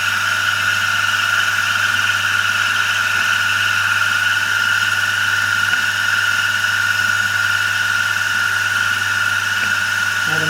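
A tool grinder wheel grinds a countersink, a continuous steady whine with a high squealing tone over a constant motor hum, loud and close throughout.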